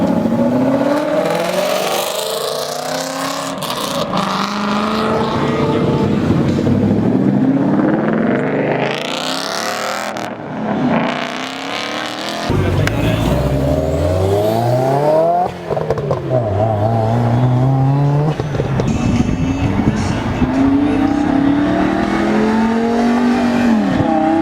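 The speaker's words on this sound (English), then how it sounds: "As they drive off." Road-legal race cars, including an APR Stage 3 tuned car, drive off one after another with loud revving engines, rising and falling pitch sweeps, and tire noise passing near, continuous throughout.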